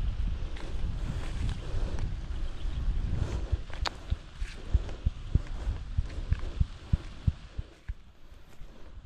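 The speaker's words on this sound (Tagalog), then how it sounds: "Mahangin na naman, no?" Gusty wind in a bitter gourd garden buffets the microphone with rumbling low bursts and irregular thumps, steady and moderately loud, with no voices.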